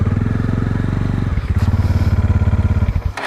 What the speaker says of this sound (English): Now my wheel is stuck in the mud, and now it's going to be very difficult to take the bike out